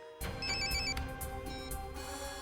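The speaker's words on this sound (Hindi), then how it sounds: "अभिजीत का फोन था" Electronic telephone ringtone in a crime drama scene, a repeating warbling electronic ring with pulsing bursts, heard up close against a steady background tone.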